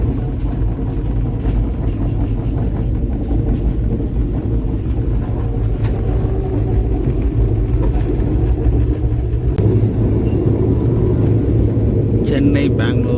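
Vande Bharat express train from Mysuru to Chennai via Bengaluru picking up speed, a steady loud rumble and roar heard from inside the coach throughout, with a faint higher rattle near the end.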